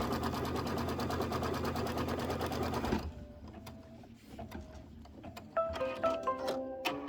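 A sewing machine stitching a quilt block runs in a loud, steady mechanical whir for about three seconds, then stops, followed by quieter clicks and handling noises, with a short mechanical whine at the end.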